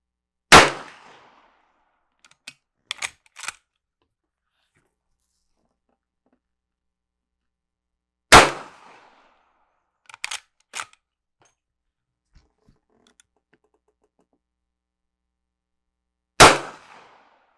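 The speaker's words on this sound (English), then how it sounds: "So first shot, not too great at 30 yards." Three sharp rifle shots from a Rossi R92 lever-action rifle fired at a silhouette target 30 yards away, spaced about eight seconds apart, each with a brief decay, with quiet clicks and clacks of the action between them.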